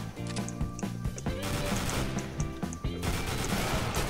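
Gunfire in Counter-Strike: Global Offensive during a competitive match, a steady barrage of sharp repeated shots over dense game noise with no talk, including what is likely a sniper rifle firing.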